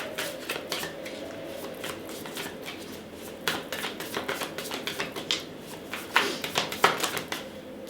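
Tarot cards are shuffled close by in quick bursts of crisp riffles and taps, getting denser and louder toward the end, with no talking over them.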